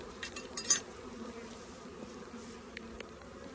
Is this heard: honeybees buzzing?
yes